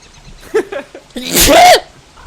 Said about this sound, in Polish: O Jezu, kichnę. Kichnę.